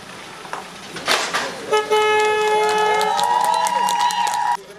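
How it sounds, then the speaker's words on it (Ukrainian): A bus carrying returning guardsmen rolls into a military base as horns blare in long sustained blasts, preceded by brief claps and crowd noise, with voices around. "Автобус з 12 гвардійцями врешті в'їжджає на територію військової частини."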